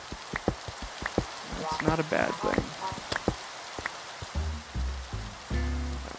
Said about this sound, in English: Okay, it's raining now.